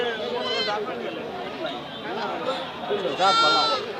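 Several goats bleat repeatedly, some high and wavering, over a background of people talking nearby at a livestock market in Bangladesh.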